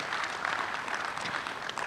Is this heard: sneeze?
no